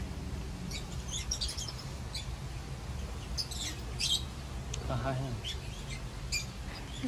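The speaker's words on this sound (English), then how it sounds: "Peach face lovebirds." Peach-faced lovebirds chirping in brief, scattered high tweets at an attraction in Wisconsin Dells, faint and partly masked by steady background noise and a low murmur of voices.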